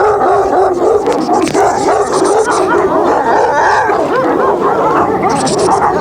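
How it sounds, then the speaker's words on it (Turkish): Several dogs bark and yip continuously, loud and close, their overlapping barks forming a dense, excited clamor. "Oho köpekler geliyor."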